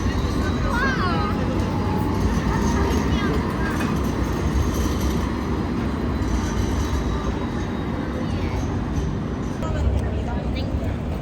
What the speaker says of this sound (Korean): 유럽에서만 볼 수 있는 트램.